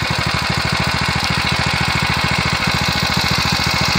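A Predator 212cc small engine idles low, making a steady, rapid, even chugging pulse that is loud and close, with no talking.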